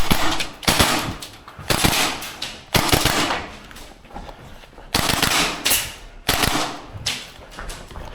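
A Tokyo Marui SPC-9 gas blowback airsoft rifle fires on full auto in a series of sharp, loud, rattling bursts about a second long, separated by short pauses, close by with no talk.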